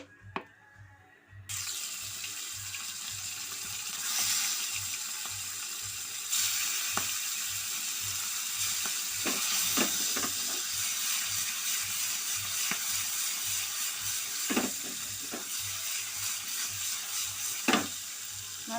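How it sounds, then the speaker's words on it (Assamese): Fish sizzling in hot oil in a pan for a khorisa fish dish, a steady close frying hiss with occasional pops and clinks, no voices. "মাছখিনি ফ্ৰাই কৰি ল'ম তেলত।"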